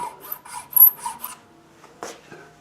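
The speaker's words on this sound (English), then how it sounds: "So I start with the thinnest nut slotting file that I have, and then gradually widen the slots and deepen them." A thin nut slotting file rasps back and forth in the nut slots of a handmade soprano ukulele, about six quick close strokes, then a pause and two fainter scrapes.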